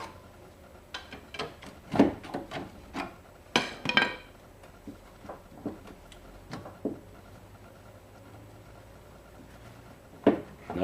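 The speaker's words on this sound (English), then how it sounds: "We're prying down now on the lower control arm on the frame of the vehicle so we can get the strut out." Prying down on a rusty vehicle's lower control arm against the frame to free a strut, giving scattered metallic knocks, clanks and creaks in irregular bursts, a few louder bangs standing out, close and without talk.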